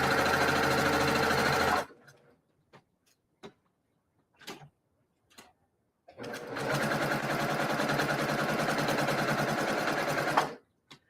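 Sewing machine straight stitching pinned quilt fabric runs in two steady, loud bursts of rapid stitching separated by a pause filled with scattered clicks and small handling sounds.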